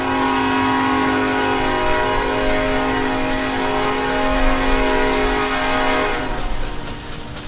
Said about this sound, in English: So there is a sound of a loud whistle.